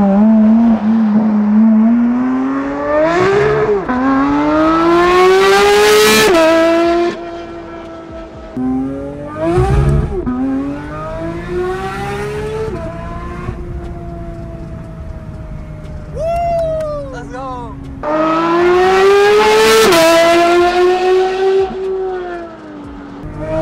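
A Porsche GT3 RS engine revs hard and loud, rising and falling through repeated pulls with a roaring exhaust, and a voice briefly speaks.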